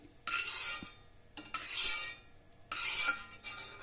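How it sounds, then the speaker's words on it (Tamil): Cashew nuts are roasted in a little ghee in a pan for a Chettinad ukkarai sweet: three scraping bursts of a spoon stirring against the metal, each about a second long, separated by quiet gaps, close and clear, no talking. "கொஞ்சமாக நெய் ஊற்றிக்கிறேன் முந்திரி பருப்பு இதை வறுத்து எடுத்து வச்சுக்கணும்"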